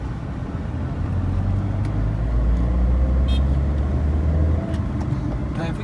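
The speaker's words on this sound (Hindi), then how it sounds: "ट्रैफिक बहुत मिल रहा है अभी" Steady road traffic rumble heard from a moving vehicle, with low engine drone throughout and a few brief high horn-like tones, no speech.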